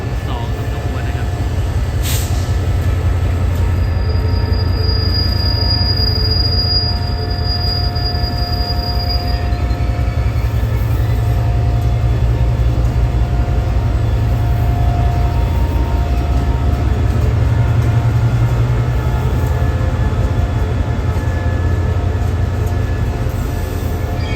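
A GEA diesel locomotive hauls a Southern Line train of the State Railway of Thailand near Bangkok. A loud, steady low rumble of engine and rolling wheels runs throughout, with high, thin wheel squeals rising in the first half.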